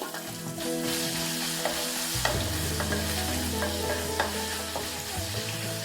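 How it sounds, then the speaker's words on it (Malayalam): Chopped shallots fry in hot oil in a pan for a buttermilk curry, giving a steady, loud sizzle with occasional stirring scrapes throughout and no talking. "ഇതിലേക്ക് നമുക്ക് ഈ ചെറിയ ഉള്ളി അരിഞ്ഞു വെച്ചത് ഇട്ട് മൂപ്പിച്ചെടുക്കണം."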